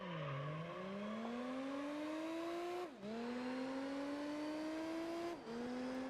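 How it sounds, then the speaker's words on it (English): An Aston Martin DB7 Vantage engine in the Gran Turismo 3 racing game revs continuously, its pitch climbing steadily through the gears with two sharp dips at the upshifts. The sound is loud and alone, with no voices over it. "I really like the way this DB7 Vantage sounds."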